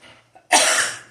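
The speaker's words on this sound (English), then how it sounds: "Sorry for coughing." A person gives a single loud, harsh cough close to the microphone, preceded by a faint breath.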